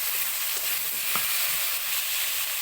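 Vegetables with potatoes being stirred in a pan for a rohu fish curry, giving a steady soft sizzle with occasional faint scrapes of a spoon.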